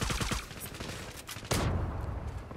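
Gunfire in the first-person shooter Zula: rapid bursts of automatic shots crackling in quick rhythm, a sharp louder blast about halfway, and continued firing after it, all fairly close and with no voices.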